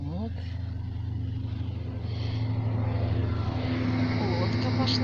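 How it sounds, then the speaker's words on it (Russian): Motorboat carrying holidaymakers passes on a lake reservoir, a steady droning engine hum throughout, growing slightly louder as it goes by, with someone talking over it. "Лодка пошла с отдыхающими."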